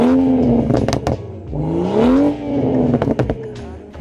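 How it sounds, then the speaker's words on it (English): Modded BMW 340i with a muffler delete and catalyst downpipe revving hard, loud rising and falling exhaust howl with sharp pops and crackles between pulls, close to the car. "the muffler delete paired with the catalyst downpipe sounds really good"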